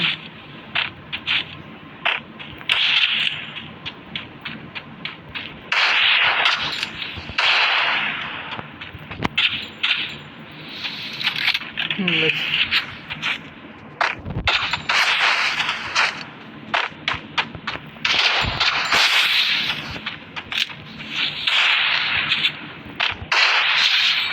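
Gunfire from the mobile battle game Free Fire in a one-versus-one headshot match: loud bursts of sharp cracking shots come in rapid clusters with short pauses between, alongside whip-like snaps and mechanical clicks across the whole stretch.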